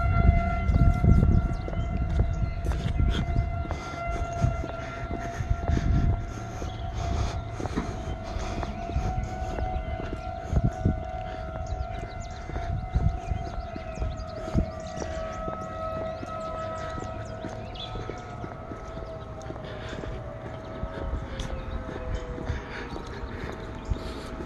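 A civil defense siren wails continuously at a distance during an outdoor siren walk, its tone slowly sliding and holding over rumbling, clattering train-like background noise for the whole stretch.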